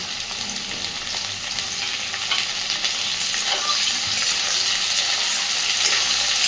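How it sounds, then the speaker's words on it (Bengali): Potatoes frying with plenty of chopped onion and green chili for ghugni, a dense continuous sizzle up close, growing slightly louder, with faint stirring clinks. "পেঁয়াজ কাঁচা লঙ্কাটাকে দিয়ে আলুটাকে আবারও সুন্দর করে ভাজতে থাকবো।"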